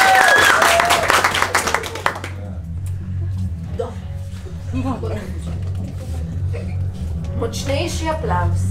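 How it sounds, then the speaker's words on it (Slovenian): Audience applause at an improv theatre show, a loud burst of clapping that ends after about two seconds, followed by someone talking over a low background hum. "Močnejši aplavz"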